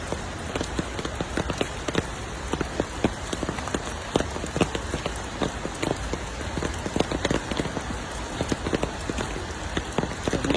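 Rain falling steadily, with dense drops pattering on a nearby surface over a constant wash of noise, no voices.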